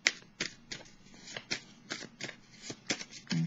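Tarot cards being shuffled by hand in quick, irregular bursts of crisp riffling and flicking, close up and fairly quiet, with no talking over them.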